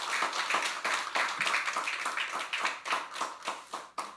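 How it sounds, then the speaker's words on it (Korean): A church congregation at Sunday worship claps in a fast, regular rhythm for the choir and accompanist, the sharp hand claps close and loud, tapering slightly at the end. "우리 성가대 또 우리 반주한 우리 장경 집사 우리 경례 박수 한번 하겠습니다."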